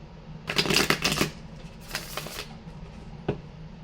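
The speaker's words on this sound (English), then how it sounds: "that was a bad shuffle" Tarot cards being shuffled by hand, a close riffling burst followed by a second shorter riffle and a single sharp tap, with quiet pauses between.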